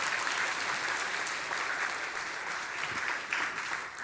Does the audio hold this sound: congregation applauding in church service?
yes